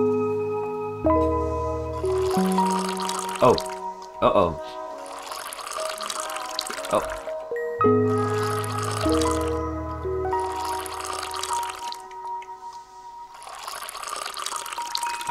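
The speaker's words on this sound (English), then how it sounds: "Where am I pouring the milk?" Milk poured in the video game Dordogne comes in intermittent liquid bursts over background music, with a voice letting out short startled exclamations.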